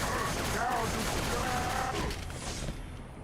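Video game gunfire rattles in dense bursts through a loud mix, layered with voices and game noise and fading slightly toward the end.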